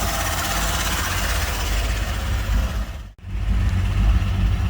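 A Nissan VG-engined manual drift car idles steadily with a low, rumbling throb, close and continuous, with one brief dip in the middle.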